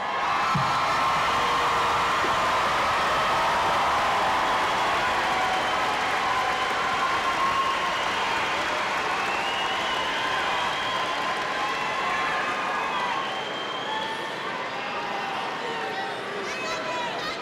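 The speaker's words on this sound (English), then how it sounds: "recognize them with your applause" A crowd at a university undergraduate commencement gives sustained applause for the mentors, dense clapping mixed with scattered cheers and voices, loud and steady before easing slightly toward the end.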